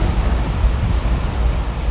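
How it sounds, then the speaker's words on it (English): Storm waves crashing over a weakened, previously damaged seawall, heard as a constant loud roar of surf and wind noise with no clear separate impacts and no talk. "waves crashed over the weakened seawall, which had already sustained damage from a previous storm"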